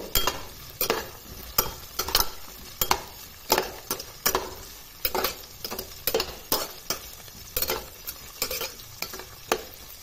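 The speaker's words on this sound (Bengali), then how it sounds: "আমি সব সবজিগুলো কড়াইতে দিয়ে একটু ভেজে নেব।" Mixed vegetables fry in mustard oil in a wok over a tempering of cumin and green chillies, with a steady sizzle broken by regular, fairly loud stirring strokes throughout.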